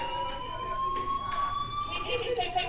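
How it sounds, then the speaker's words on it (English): A school fire alarm in the Life is Strange video game rings as a steady, piercing electronic tone that continues without break, with a voice talking over it. "Hey, do you hear that fire alarm? That means you should be outside."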